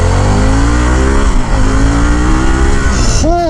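Harley-Davidson Pan America 1250 Special motorcycle accelerating hard, engine note rising loud and close through the gears with wind roar, then a quick shift near the end.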